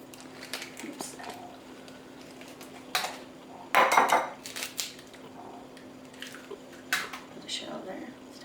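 Two eggs for a traditional Christmas pudding are cracked into a bowl, giving a few sharp taps and clinks of shell against the rim, soft wet handling sounds and quiet clatter between the knocks, close and fairly faint.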